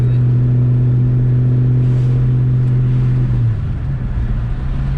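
A Saleen car engine idles and revs with a steady low, loud drone, then the pitch drops and settles as the revs fall away near the end, with no talk over it.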